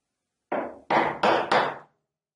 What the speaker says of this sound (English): clean up the bottom of the little V groove with a really sharp chisel